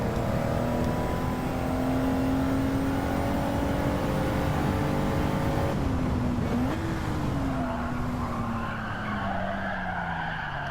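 A Mitsubishi GTO in Gran Turismo 7 races through a replay lap with a steady engine drone and long tire squeal and skidding through the corners, loud and continuous with no voices.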